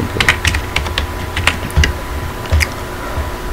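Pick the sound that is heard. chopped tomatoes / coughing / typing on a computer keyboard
typing on a computer keyboard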